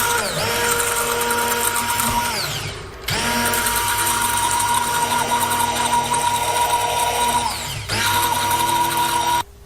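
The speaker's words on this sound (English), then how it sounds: "Next we'll use a blender to blend it into." Motorized blender whirring as it mixes a skincare cream emulsion of water and oil phases, running loud and steady near the microphone, stopping briefly twice and spinning back up each time.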